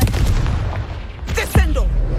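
A Confringo blasting spell in Hogwarts Legacy lands as a short, deep boom with a punchy burst, set in dense combat ambience with a voice underneath.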